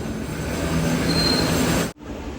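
An express train running from Veraval in Gujarat to Thiruvananthapuram rolls past with a steady, loud roar of wheels and carriages, then cuts off abruptly near the end.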